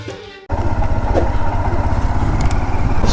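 An old 1997 Honda CD100 motorcycle engine starts up abruptly and runs loud and close, a steady rapid single-cylinder thrum after a brief quieter moment.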